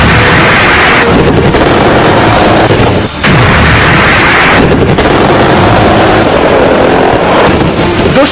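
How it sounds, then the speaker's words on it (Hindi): Bhishma main battle tank firing, loud continuous roaring blasts with heavy rumble running throughout, a brief dip near the middle before the thunder resumes. "दुश्मन पर ऐसे ही गरजता है भीष्म टैंक।"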